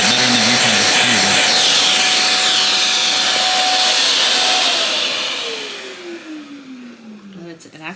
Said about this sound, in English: let's turn off the suction